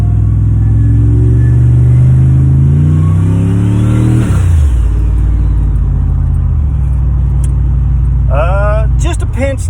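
A turbocharged truck fitted with a VS Racing 485 turbo revs and accelerates loudly on a drive, its engine note climbing steadily before dropping and settling into a steady rumble, with a voice briefly heard near the end.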